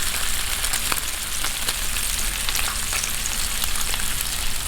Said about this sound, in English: I'm just going to throw the eggs on.